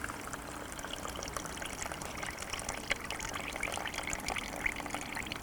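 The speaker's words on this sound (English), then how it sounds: "I like to take the water straight off" Water drains off soaked fishing pellets in a continuous faint trickling pour, steady and unbroken, with no voices over it.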